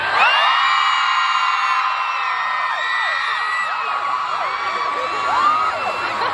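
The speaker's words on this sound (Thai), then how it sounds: "เดี๋ยวเราขอเสียงกรี๊ดก่อนคราวนี้มีพลังเลย" A large crowd at a charity event screams and cheers loudly in a sustained, high-pitched roar, with overlapping shrieks and whoops throughout.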